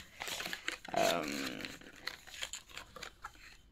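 Lip balm packaging from a Sephora haul crinkles and rustles as it is torn open, a few close crackling bursts with faint voice sounds mixed in.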